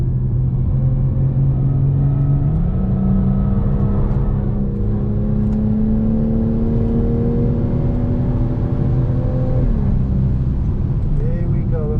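A BMW M240i pulling hard on the Zwartkops Raceway circuit, its engine note rising steadily in pitch through the gears with a short shift dip, loud and close from inside the cabin.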